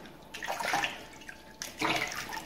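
Tap water running over peppers being washed for pickling in apple cider vinegar, two splashing bursts of flowing water with a brief quieter pause between them.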